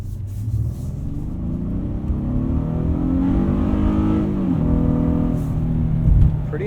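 A 2019 Honda Passport Elite AWD accelerating on a winter night, heard from inside the cabin: a steady engine hum and road rumble that rises in pitch as it speeds up, then settles, with no talk.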